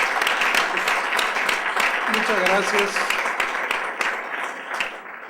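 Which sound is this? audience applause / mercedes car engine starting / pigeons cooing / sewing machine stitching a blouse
audience applause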